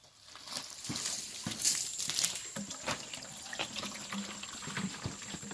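Water runs steadily from a hose into a bucket while a 5-gallon truck wash concentrate is mixed, a continuous splashing rush with no speech.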